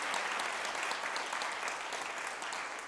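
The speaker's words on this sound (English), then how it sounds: "we would appreciate that round of applause right now" An audience at a school district's State of the Schools address gives a steady, sustained round of applause, a dense wash of many hands clapping at even loudness with no talk over it.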